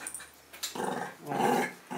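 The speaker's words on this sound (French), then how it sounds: "il grogne un peu parce qu'il a peur" Frightened nine-month-old puppy growling, two low rumbling growls close up with a short pause between them.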